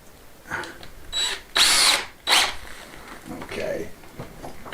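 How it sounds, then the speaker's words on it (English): Power drill boring holes straight through fittings in an outdoor courtyard, heard in a few short bursts of whirring between pauses, close and fairly loud over quiet surroundings. "all, I've got to do is try and drill two holes straight through these things."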